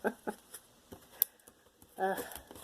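Tarot cards being shuffled by small hands, giving soft papery riffles and brushes in short bursts, with louder flurries at the start and near the end.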